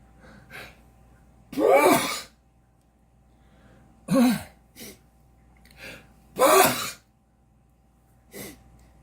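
A series of breathy vocal bursts with gasps and throat sounds, building toward a sneeze, each burst separated by short quiet pauses.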